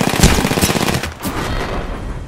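Rapid bursts of automatic gunfire from the Apex Legends video game crackle loudly and close, a dense fusillade in the first second that thins into scattered, quieter shots afterward.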